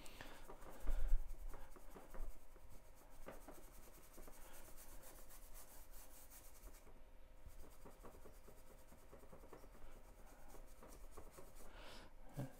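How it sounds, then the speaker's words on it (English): A stiff-bristle brush scrubs and rubs oil pastel across paper, making a soft, continuous scratchy friction sound that stays close and fairly faint with no talking. "Just trying to cut into it with this brush."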